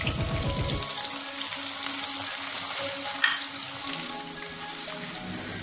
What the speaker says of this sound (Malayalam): ഞാനൊരു പത്ത് ചെറിയ ഉള്ളി അരിഞ്ഞ് ചേർക്കുന്നുണ്ട് വറുത്ത് കോരി എടുക്കാം